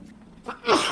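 A single sneeze from a person during a strategy game session, a soft intake followed by a sharp, loud burst at the end, fairly close.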